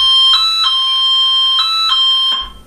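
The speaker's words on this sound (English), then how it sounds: "Place the solar siren down." A solar-powered siren alarm blares loud and close, a steady high electronic tone with rhythmic pulsing accents, cutting off abruptly near the end.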